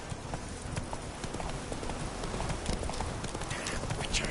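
Roach, Geralt's horse in The Witcher 3: The Wild Hunt, trots with steady, rhythmic hoof clops over a dense background, close and continuous throughout.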